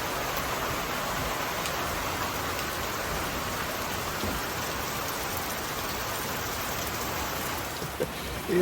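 Heavy rain pours down steadily during a thunderstorm on Table Rock Lake, a dense, even roar of drops on surfaces that carries on without a break and without voices.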